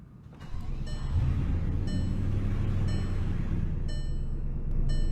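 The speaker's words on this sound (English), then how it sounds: "Here's what it sounds like starting up." A 2007 Struggatti Ettore car engine in a video game cranks and catches, settling into a steady low idle rumble, with faint high beeping tones repeating in the background.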